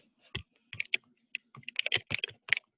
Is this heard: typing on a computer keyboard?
yes